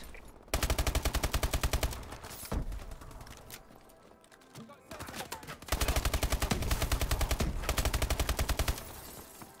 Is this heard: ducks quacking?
no